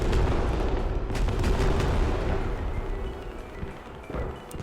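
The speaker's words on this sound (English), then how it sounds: "Very effective airstrike." Airstrike explosions roll through a match of the video game Squad, heavy booms and rumbling blasts layered into a loud continuous roar that eases slightly toward the end, with a few sharper impacts.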